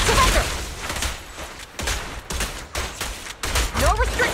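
Gunfire in the video game Goddess of Victory: Nikke: dense, rapid volleys of shots in repeated bursts separated by brief gaps, loud and close, with game effects mixed in.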